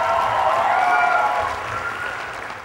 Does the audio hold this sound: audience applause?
yes